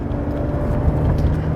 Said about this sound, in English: go to second. That's it, little blip, clutch is light, comes right back up